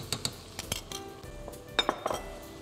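A metal spoon stirs onions, peppers and two spoonfuls of tomato paste in a pan while cooking eggplant fatteh, with light close clinks and taps against the pan, scattered and uneven.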